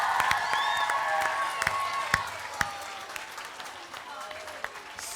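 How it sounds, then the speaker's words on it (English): A school audience claps in a moderate, steady round of applause, with a few sharper individual claps standing out as it gradually winds down. "let's give reception another massive round of applause."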